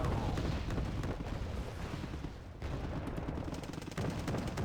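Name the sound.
BMP-3 gunfire in video game Wargame Red Dragon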